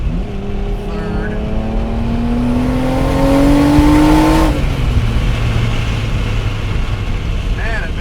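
A BMW Z3 M Coupe engine pulling hard through the gears, its rising tone climbing loudly before a shift cuts it off, then a lower drone continues as the car gathers speed.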